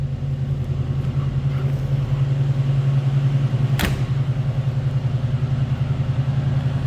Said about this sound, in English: That was a cold start, so it's on high idle right now until that choke kicks off.